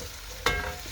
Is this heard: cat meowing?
no